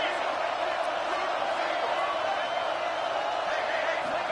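Steady stadium crowd roar in College Football 26, a dense constant din filling the background as a late-game defensive stand plays out, with a commentator's voice layered over it.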